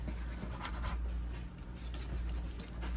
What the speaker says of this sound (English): just sliced up like that. Against the grain, just like that